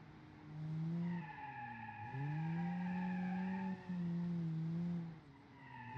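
Tires squeal as a 1974 family car corners in a driving game: long, wavering tonal squeals that bend in pitch across two stretches, with a brief dip between them, fairly loud with no voices.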